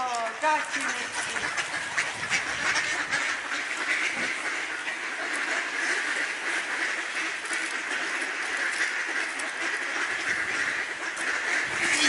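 Ducks quack steadily and densely throughout while being fed from a bridge, a loud continuous chorus with voices talking among them.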